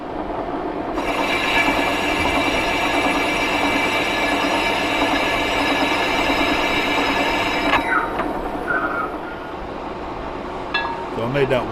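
A lathe makes a cutting pass on a large hydraulic tube nut, a loud, steady metallic grinding and whirring drone with a bright ringing tone that cuts off near the end, leaving a quieter machine hum and faint clicks.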